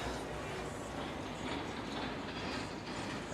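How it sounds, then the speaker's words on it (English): A double-engine diesel locomotive train passes close by, hauling railcars stacked with heavy steel slabs, its steady rumble and clattering wheels filling the air without a break. "here comes a locomotive"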